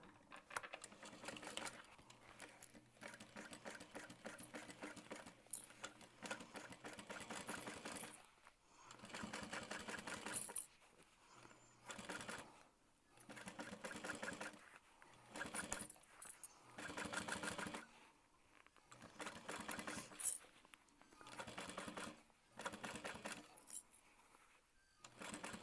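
A sewing machine runs a quarter-inch seam in a series of close, rapid stitching bursts that start and stop repeatedly, with short pauses between runs and no talking.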